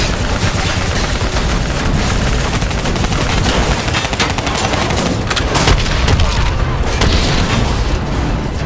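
Dense gunfire with heavy booms and explosions from a battle against a VTOL aircraft in Black Ops 3, loud and continuous throughout with overlapping shots and blasts, no clear talk.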